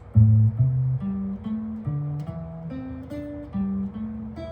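A clean guitar plays a scale of single picked notes, leaping between strings in a steady, even rhythm, with no voices.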